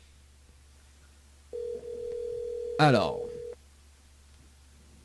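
A telephone dial tone sounds steadily for about two seconds as a radio station calls a listener, with a quick burst of dialing tones in the middle and a brief word spoken just before.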